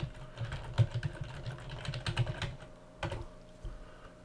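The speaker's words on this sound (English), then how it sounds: "And then type in the website address." A computer keyboard clatters as a website address is typed in, with irregular bursts of close, crisp keystrokes and brief pauses between them.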